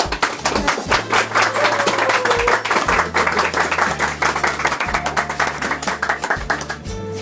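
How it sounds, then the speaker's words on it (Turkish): Family and guests clapping at a Turkish marriage proposal gathering, quick rhythmic hand claps close by over steady background music with a pulsing beat, lively and continuous. "Alkış."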